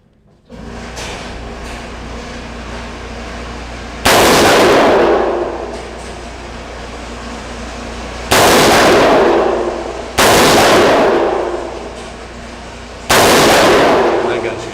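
Colt Commando 631 CAR-15/XM177 clone rifle fires four loud, sharp single shots spaced a few seconds apart outdoors, each with a ringing decay over a steady background hum.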